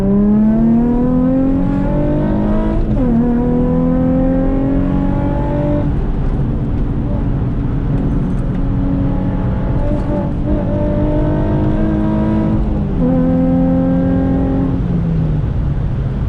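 A Nissan 350Z with a 75mm big bore throttle body runs loud and close, its engine rising in several revs that climb in pitch, drop back, then climb again.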